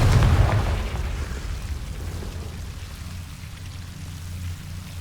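A Confringo fire spell bursting in Hogwarts Legacy, a loud explosive blast at the start that fades into a sustained roaring, crackling rumble.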